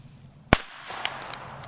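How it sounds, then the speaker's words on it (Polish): One sharp firecracker bang from a New Year's Eve set cracks loudly and close, followed by faint crackles and a quiet outdoor background. "Petarda. petardka, dawaj."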